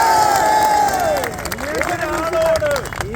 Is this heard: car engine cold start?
no